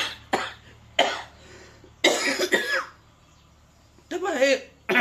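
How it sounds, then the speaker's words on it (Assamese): One person coughs loudly and close up in about five separate harsh bursts, with short quiet gaps between them. "মোক কাহি আছে"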